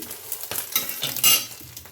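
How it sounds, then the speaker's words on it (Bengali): Papad frying in hot oil makes a close, crackling sizzle that swells into a brief, brighter hiss burst near the end, with light clatter of a utensil. "তো চলো পাঁপড় ভেজে নিই"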